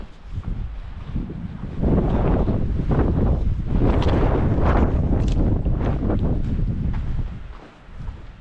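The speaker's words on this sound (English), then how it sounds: "It's pretty windy, but so far the view is worth it." Strong wind at a campsite in Capitol Reef buffets the microphone in a steady, roaring rush that swells and gusts throughout, loud and close.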